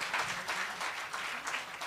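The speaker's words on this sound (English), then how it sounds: "Round of applause." Conference audience applauding at a women-in-diplomacy event in Nairobi, a steady, even roar of many hands clapping throughout, moderately distant.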